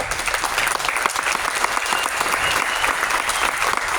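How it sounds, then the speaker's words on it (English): An audience applauds band students at an all-county band concert, with steady, dense clapping from a large crowd throughout. "Let's give these group of students who has done this all in one day a round of applause."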